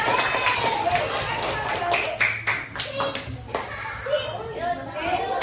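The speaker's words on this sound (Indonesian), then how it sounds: "Oke, tepuk tangan untuk mereka." Children in a classroom clap for student groups, a busy, uneven patter of claps mixed with kids' chatter and movement, with a voice briefly heard over the noise.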